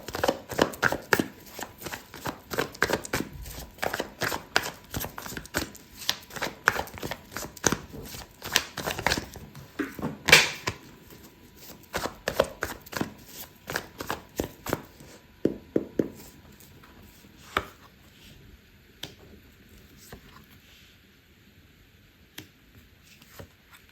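A tarot card deck is shuffled in a steady run of crisp, close riffling bursts that thin out toward the end, with no voice over them.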